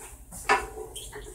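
A spatula scrapes and clinks once against a pan while butter is stirred, a brief sharp metallic tap over quiet kitchen background.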